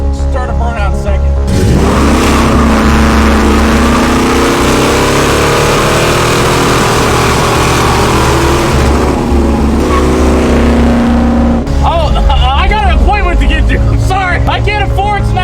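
Supercharged 1968 Dodge Charger held in second gear for a burnout, its engine roaring loud and sustained at high revs for over ten seconds before dropping off, with a voice talking near the end.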